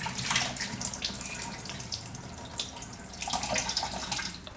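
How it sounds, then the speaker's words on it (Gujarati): Flattened rice (poha) being washed by hand in water in a kitchen, with continuous soft sloshing and swishing, running water and small splashes at a moderate, close level, no voices. "પૌવા મેલા હોય થોડાક એટલે ધોઈ નાખીએ એટલે એકદમ ચોખ્ખા થઈ જાય"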